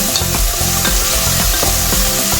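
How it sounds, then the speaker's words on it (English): Pork browns in a frying pan with a loud, continuous sizzle, while a utensil scrapes and stirs in rhythmic strokes about twice a second. The sound is close, with no talking. "After 1 minute of cooking, I'm going to stir it so that the other side of the meat will get brown too."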